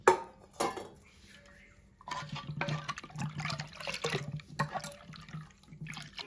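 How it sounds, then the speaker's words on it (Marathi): Hot water is poured into rice batter in a home kitchen while making a traditional Konkan dish, with splashing and pouring sounds alongside faint clinks of a vessel, intermittent and close. "गरम पाणी आणि मीठ टाकायचं थोडं"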